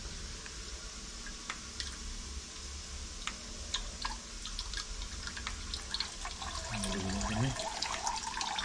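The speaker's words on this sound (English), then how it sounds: "And just drain the diesel out." Diesel fuel draining out of a BMW 3.0 diesel N57 engine (F31) during a service, heard as scattered small drips and ticks over a steady background hum, with a gurgling liquid sound swelling near the end.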